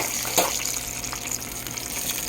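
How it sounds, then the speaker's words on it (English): Water hits hot grease in a pan while thick-cut pork chops fry, a steady hissing, rushing sizzle close to the mic with a brief louder burst near the start, no voices over it. "Let's get some water and moisture in there. It did not like that at all."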